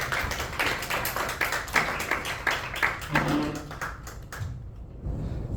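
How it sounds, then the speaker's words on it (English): Audience members at a magic show give a round of applause, scattered hand claps that build then thin out and stop, with brief murmurs underneath and a quiet tail. "Give them a round of applause."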